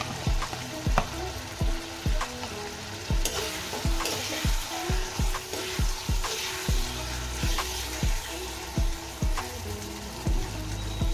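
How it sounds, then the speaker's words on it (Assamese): Small fish sizzle steadily in hot spiced oil, with a regular rhythm of close scraping stir strokes from a utensil over the frying, and no voices. "মই মছলাখিনি অলপমান দি মই ভাজি ললো আৰু এতিয়া মই এইখিনি মই মাছ লৈছো"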